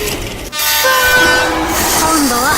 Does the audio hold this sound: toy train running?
yes